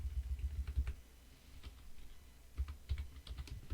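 Computer keyboard typing during a coding lesson, with bursts of quick clicking keystrokes before and after a short pause, close and fairly quiet, with no talking.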